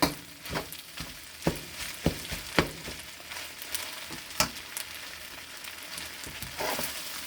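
Fried rice sizzles in a wok with olive oil as it is stirred, a steady close frying hiss punctuated by sharp scraping clacks of the utensil against the pan.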